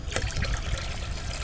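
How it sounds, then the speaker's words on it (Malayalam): Water splashes and trickles steadily for a moment, close by, with no voices. "കുറച്ച് വെള്ളവും കൂടെ ഒഴിക്കണം"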